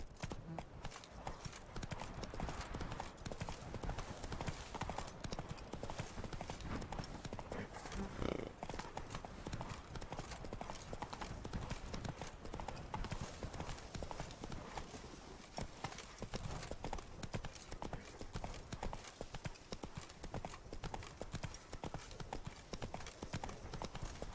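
Roach the horse trots in The Witcher 3, hooves clip-clopping in a quick, steady rhythm close by, continuing the whole time at a soft level.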